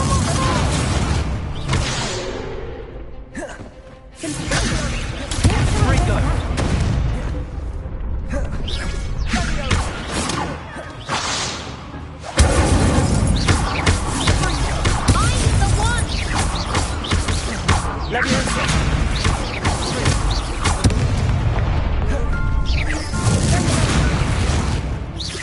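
Fire spell blasts in Hogwarts Legacy combat, loud repeated booming bursts and crackling impacts over a dense game soundscape, with a character's voice shouting between the blasts.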